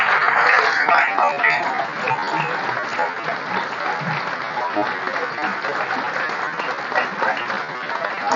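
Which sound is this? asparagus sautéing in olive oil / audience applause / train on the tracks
audience applause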